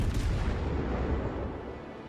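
A German battleship, the Scharnhorst, fires its naval guns in the World of Warships video game, making a heavy, deep booming rumble that fills the moment and slowly fades away.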